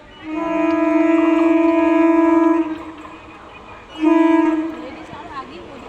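A train pulls into a station and sounds its horn. A long, loud, steady tonal blast is followed after a short pause by a second, shorter blast over low station rumble.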